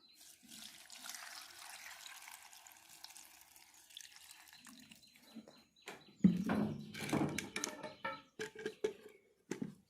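Water poured from a vessel into ingredients before grinding in an Odia village kitchen, heard as a splashing pour that grows louder in the second half with short bursts near the end, no talk over it.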